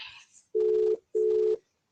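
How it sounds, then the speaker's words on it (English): An outgoing telephone call ringing out: two steady, loud ringback tones of about half a second each, separated by a short gap, heard alone after a brief bit of noise. "Let me just call him so that I can get him online here."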